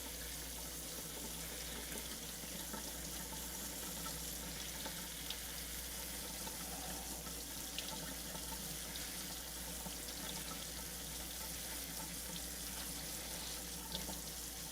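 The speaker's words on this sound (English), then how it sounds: "we're just gonna rinse it real good through the strainer" Rice, about a cup and a half, is rinsed in a strainer under a running kitchen faucet, a steady rushing hiss of water with faint patter, close and continuous with no talking.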